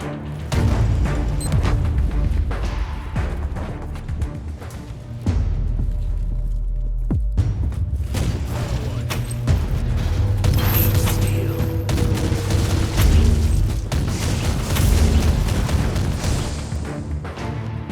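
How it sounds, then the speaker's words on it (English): A powerful gun fires continuously in the video game Warhammer 40,000: Inquisitor - Martyr, with dense rapid bursts, heavy booms and mechanical clatter layered with loud game effects throughout. "this gun is so powerful"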